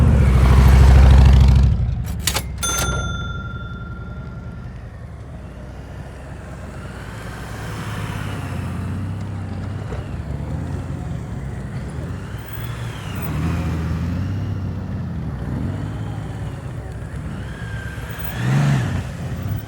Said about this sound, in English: Definitely not afraid to lean that motorcycle.